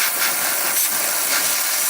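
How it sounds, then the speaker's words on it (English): A steam wand steams milk with a loud, steady broadband hiss and rumble that holds for the whole stretch, close up and with no voices over it. "I'm gonna steam my milk now"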